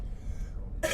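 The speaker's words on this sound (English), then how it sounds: "I got a cough and I don't know how loud it's about to be." A single sharp cough bursts out near the end, close and loud, after a stretch of low room murmur during a live street broadcast in Austin.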